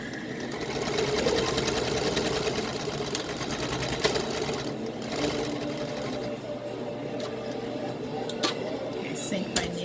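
Domestic sewing machine zigzag stitching fabric for a dog coat, a steady rapid mechanical whirring with needle clatter running throughout, pausing briefly near the middle and end, with a person talking over it.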